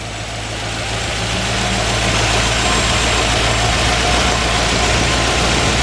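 A 1957 Ford Fairlane Skyliner engine runs at a steady, fairly quiet idle, close by, with a continuous low rumble and faint mechanical hum.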